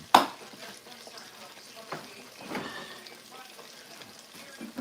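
Fish frying in hot grease crackles and sizzles in a pan, a soft, irregular spatter with a few sharper pops and faint background sounds, no clear talk over it.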